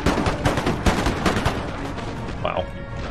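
Puckle guns firing in a large Empire: Total War battle, a steady patter of rapid shots layered with heavier booms and battlefield din, continuous and loud throughout.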